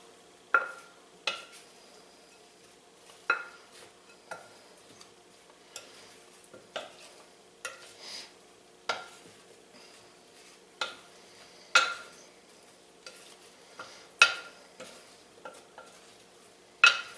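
Corned beef hash with thyme is stirred in a frying pan, a utensil scraping and clacking against the pan in roughly a dozen spaced strokes over a low, quiet sizzle, with no talking.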